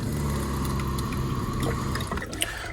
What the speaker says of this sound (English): Below that is a 12 volt kitchen sink